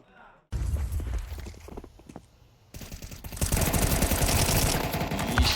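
Rapid bursts of MAC-10 submachine gun fire in Counter-Strike 2 during a Legacy versus Apeks match, crackling close and loud in quick rattling strings with footsteps, under excited commentary.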